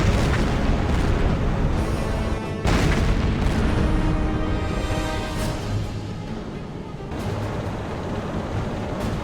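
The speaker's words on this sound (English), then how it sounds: "Gun crew, load HE, fire at will." Submarine deck gun in Silent Hunter 4 firing high-explosive shells: heavy, booming blasts and rolling rumble fill the whole stretch, with a sharp fresh report near the three-second mark and another surge near the end.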